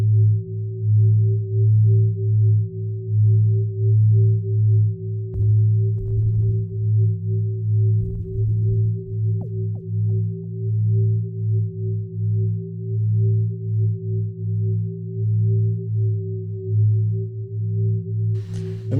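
A steady ambient synth drone built in Renoise, with chorus and a multi-tap delay, holds a sustained low hum, while brief glitchy bursts and echoing ticks flicker across the middle of the passage, alone and without voices.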